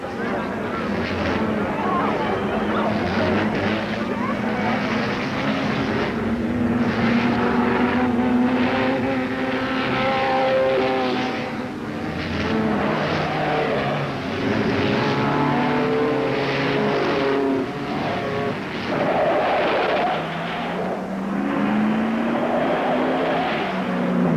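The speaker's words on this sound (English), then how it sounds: "Down to a 1-to-1 race between Longarini and the Bug" Racing cars, including the Herbie Love Bug Volkswagen, roar along at speed in a close one-on-one race, a loud sustained engine drone with rising and falling pitch throughout, and voices are heard over it.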